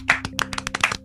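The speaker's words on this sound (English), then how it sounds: "Can I just get a round of applause for Wax timing?" A short scatter of hand claps, a small round of applause made of about a dozen sharp, close claps at an uneven rhythm over roughly a second.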